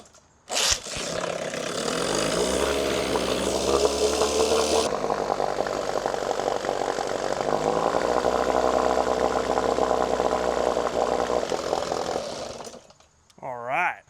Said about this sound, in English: Let's see if we can get this outboard to start up for us.